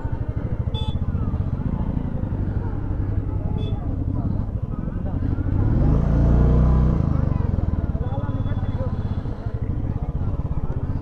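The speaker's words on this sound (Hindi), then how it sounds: "और इस भीड़ में हम चार लोग बाइक पर बैठे हैं ना, तो बाइक को संभालना हो रहा है मुश्किल।" A motorbike carrying four riders moves slowly through a dense crowd at a bhandara. Its engine putters steadily up close, swells briefly midway and stays under a busy background.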